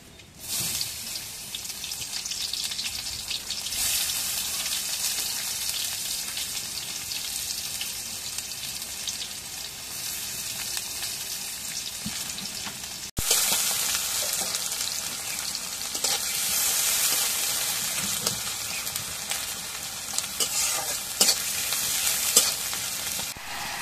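Chopped onion frying in oil in a wok, a loud continuous sizzling hiss that steps up sharply partway through and carries on steadily, close by with no talk.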